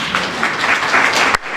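A brief burst of audience applause at a French talk on networking, dense clapping that stays loud for just over a second and then stops abruptly.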